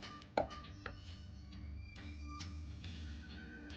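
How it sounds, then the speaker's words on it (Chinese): A knife chopping scallions on a cutting board: a sharp first chop followed by a series of softer, spaced knife taps, close and fairly quiet. "少许的大葱切成葱花"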